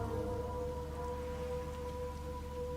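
Gentle rain in the detective game Rain Code, an even, unbroken patter over a low steady rumble with faint sustained tones, calm and without any talking.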